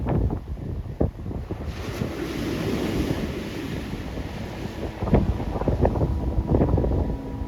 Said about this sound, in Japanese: 今回の旅最後の海の景色です。